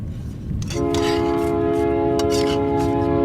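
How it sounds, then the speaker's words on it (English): A train passes close by and sounds a loud, sustained horn over a low rumbling of rail cars, holding steady to the end. "here comes another train coming the other way"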